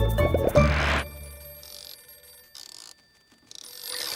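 A cartoon telephone gives a bright, clock-like mechanical ring in a few short bursts separated by pauses, heard alone and fairly clear.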